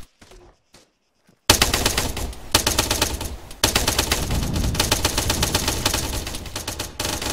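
Airsoft guns fire rapidly in an outdoor skirmish, loud sustained bursts of fast clicking shots close by after a quiet opening, pausing briefly and then resuming in long rattling volleys.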